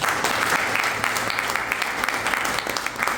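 A business seminar audience claps together in a loud, dense burst of applause that fills the hall and holds steady for about three seconds.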